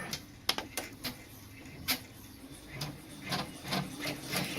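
An embroidery machine stitching detail onto felt floated in the hoop, giving a steady rapid mechanical tapping and whirring, with sharper clicks now and then, heard close and alone.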